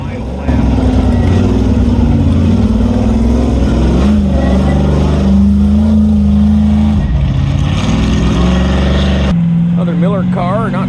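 A loud off-road race car engine roars steadily and revs during an Ultra4 race at Rausch Creek, with commentary talking over it throughout.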